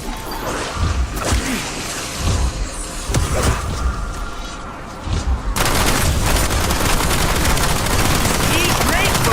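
Rapid hand cannon gunfire in a video game, a burst of sharp cracking shots with clattering impacts, followed by dense continuous firing and chaotic noise, with a voice talking over part of it.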